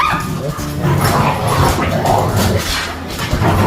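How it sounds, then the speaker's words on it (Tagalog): Dogs bark and yip excitedly in a steady, busy flurry, fairly close, with a faint voice or two mixed in. "Nakakatuwa yung kakulitan ng ating mga aso."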